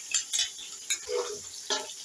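Chopped ginger and garlic go into a hot pan for matar pulao, giving a soft sizzle under a few light scrapes and clinks of a spoon against the metal.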